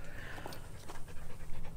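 A dog pants quietly and rhythmically nearby, a string of quick soft breaths running through the whole moment over a low background hum.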